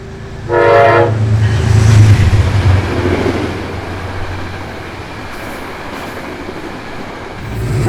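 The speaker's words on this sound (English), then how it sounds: "A northbound Metro North Hudson Line train approaches Dobbs Ferry." A northbound Metro North Hudson Line train approaching Dobbs Ferry station sounds a loud horn blast early on, then its heavy rumble rolls steadily nearby and gradually eases.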